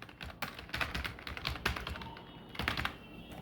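Fingers type an institute name on a computer keyboard, a quick close run of light key clicks in bursts with brief pauses, fairly quiet and with no talking.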